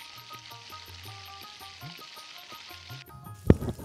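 Marinated shrimp coated in salt and turmeric fry in mustard oil, giving a soft, even sizzle under faint tonal background music, capped by one sharp clatter near the end.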